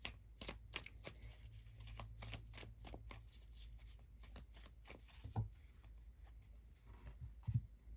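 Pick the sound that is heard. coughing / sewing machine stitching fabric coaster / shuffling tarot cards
shuffling tarot cards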